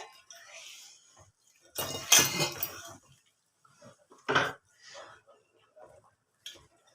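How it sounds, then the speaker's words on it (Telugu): Ingredients being stirred together in a vessel, heard as a few bursts of scraping and clinking from utensil against the pot with quiet gaps between, close and moderately loud. "ఇవన్నీ వేసి ఒకసారి మిక్స్ చేసుకోవాలండి"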